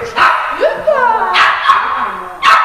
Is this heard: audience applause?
no